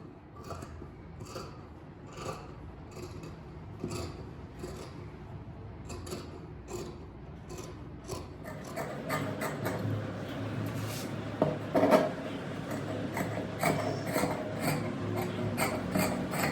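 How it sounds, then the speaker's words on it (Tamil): Scissors snip and rasp through blouse fabric while the back piece is cut out, a steady series of close, crisp cutting strokes that grow louder and denser toward the end. "இப்போ இந்த பேக் பார்ட்டை நான் கட் பண்ணி எடுக்க போகிறேன்"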